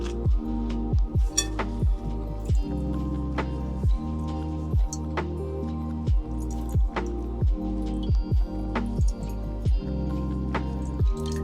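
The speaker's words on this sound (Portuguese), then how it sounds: "vou estar jogando um pouquinho de água nela" Water is poured over a men's waterproof chest bag from HcanKcan sitting in a glass bowl, giving a steady run of small wet drips and squishy splashes at a regular pace, close up with no talking.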